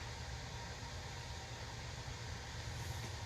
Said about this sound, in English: Yeah, that a train.